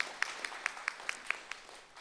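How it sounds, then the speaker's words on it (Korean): Sparse, light applause from a small audience introducing a conference panel of bank and financial group leaders, eight or so separate claps spaced evenly, faint and thin in a quiet hall. "박수로 부탁드립니다."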